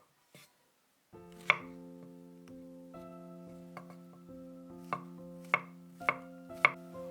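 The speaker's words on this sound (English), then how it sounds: "cut into small pieces 100 grams of mushrooms" Mushrooms cut into small pieces with a knife on a board, about seven sharp close chops at uneven intervals over a quiet kitchen with a low ringing hum.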